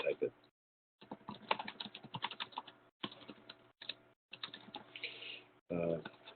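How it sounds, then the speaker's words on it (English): Someone types on a computer keyboard in short bursts of quiet clicking separated by brief silences during a meeting. "You should just type it."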